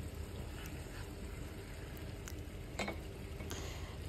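Mutton in spiced red oil is stirred in a pan. The result is a soft, quiet sizzle with a few scraping strokes and light clicks.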